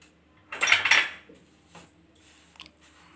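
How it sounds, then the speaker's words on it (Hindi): Chocolate mixture being stirred in a bowl, heard as a short burst of scraping, clinking utensil-on-bowl sounds followed by a few softer taps, close and without talk. "सो अब हम इसे मिक्स करें।"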